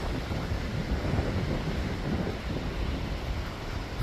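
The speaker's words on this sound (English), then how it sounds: "Remember, this wind is whipping." Strong wind whipping across a mountain hiking trail on the Appalachian Trail toward Charlies Bunion in the Great Smoky Mountains, a steady rough buffeting roar battering the microphone with no voices.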